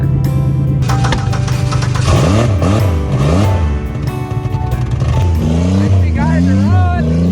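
Derby car engine cranking and revving in repeated rising and falling surges, loud and close, with a rough idle between pulls and voices talking over it.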